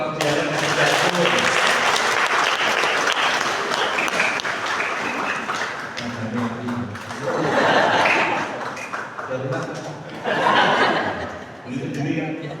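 A church congregation applauds after Mass thanks for the choir, sustained clapping swelling in waves, with chuckles, laughter and voices mixed in throughout.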